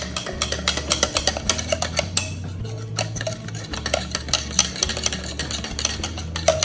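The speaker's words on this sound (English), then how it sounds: "we're gonna whisk this around" A whisk beats sourdough ingredients around a bowl in quick, steady rhythmic strokes, each with a clinking scrape against the sides, close up and fairly loud, with no talking.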